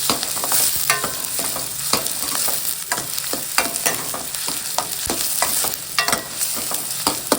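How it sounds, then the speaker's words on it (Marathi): Onions and coconut roasting in a pan, a loud, dense sizzle with frequent crackles and quick stirring scrapes throughout, close up and with no voices. "कांदा आपण आता व्यवस्थित भाजून घ्यावे"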